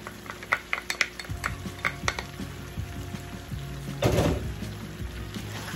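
Onions being stirred into a pot of oxtail sauce, with a steady sizzle under repeated close scraping and clinking strokes of a spoon against the pot, plus a louder stirring burst near the end.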